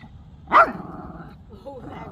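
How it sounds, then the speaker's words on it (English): A dog meeting another dog gives one sharp, close bark that ends quickly, followed by quieter low rumbling in a calm room. "she's just barked now"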